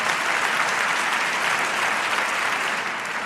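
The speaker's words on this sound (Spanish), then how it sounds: "yo creo que se merece un aplauso" Audience applause fills the room, a dense steady clapping from a crowd that holds at full strength throughout before easing slightly at the end.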